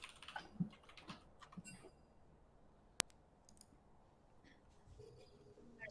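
Quiet, scattered clicks of typing on a computer keyboard during a League of Legends custom-game stream, faint and intermittent, with one sharp louder click midway and a few soft background noises.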